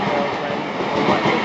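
A GWR class 802 train departs Slough station. A loud, steady rumble of rolling wheels and engine noise fills the platform, with a voice partly audible beneath it.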